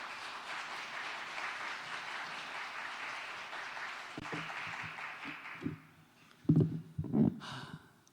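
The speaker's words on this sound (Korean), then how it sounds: "따뜻한 격려의 박수로 맞이하겠습니다." Church congregation applauding to welcome a missionary speaker, a fairly quiet, steady patter of many hands that fades out after several seconds, followed by a few close breathy noises and knocks.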